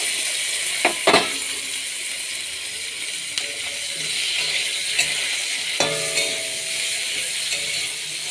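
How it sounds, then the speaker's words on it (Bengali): Eggplant frying in hot oil, a continuous close sizzle broken by a few sharp clicks and scrapes of a spatula or ladle against the pan. "বেগুনটা ধুয়ে রেখেছি, এবারে দিয়ে দেবো তেলের মধ্যে।"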